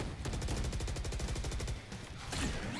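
Rapid automatic gunfire rattles in a Valorant match, a fast, even string of loud shots for about two seconds, a short pause, then another burst.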